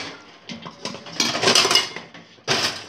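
Ceramic dishes clink and clatter as they are stacked into a bowl, a run of irregular knocks and rattles with louder bursts in the middle and near the end, close and with no talk.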